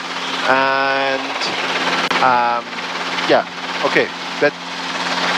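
Helicopter in flight during a first training lesson, a loud steady rotor and engine drone throughout, with a voice talking over it.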